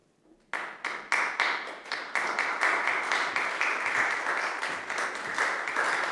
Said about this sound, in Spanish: es acogida por los aplausos de los frailes y los prelados presentes